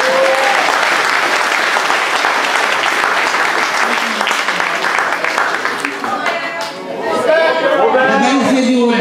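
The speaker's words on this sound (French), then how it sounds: "Je vous demande d'applaudir Nathalie." A crowd applauds Nathalie at a French-language public speech, loud sustained clapping that thins out near the end as a voice comes in over the last of it.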